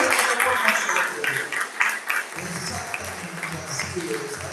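Congregation applause at an evangelical church service, a broad clapping wash that fades after about two seconds into a murmur of voices and low rumble.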